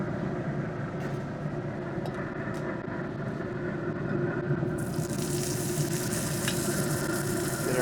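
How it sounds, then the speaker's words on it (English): Peppers and onions sauté in oil on a cast iron griddle on a ZGrill pellet grill heated to about 425–430 degrees. A steady, close sizzle runs throughout with light scraping clicks, turning brighter and hissier partway through. "Let's saute up some peppers and onions and saute up some roast beef here."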